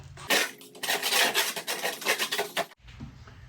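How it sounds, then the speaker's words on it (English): Scraper dragged over dried glue on the underside of a wooden workbench top, a continuous rasping scrape in uneven strokes up close, then a sudden stop leaving quiet room tone. "I wouldn't recommend scraping this on your top side because it tends to pull up wood."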